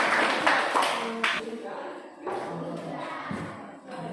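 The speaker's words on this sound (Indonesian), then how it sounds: "berikan tepuk tangan untuk kelompok 1" Classroom students applaud a student group after a lesson, a short burst of scattered clapping with taps and thuds, mixed with talking and classroom chatter.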